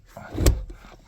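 A worn-bushing manual shifter in a sixth-generation Camaro clunks into gear, one close, dull thud with a little rattle around it.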